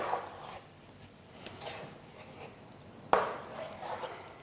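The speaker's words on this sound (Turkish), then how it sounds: "Ve hemen tekrar bunu karıştırıyorum." Keto quiche filling of eggs being stirred by hand in a bowl, with faint scattered clinks and scraping and a sharper utensil knock near the end, quiet and close with no talk.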